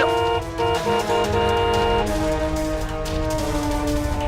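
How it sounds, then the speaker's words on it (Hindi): Car horn honking as a vehicle approaches, a loud sustained blaring tone with a brief break early on, over steady road noise. "गाड़ी आ रही है।"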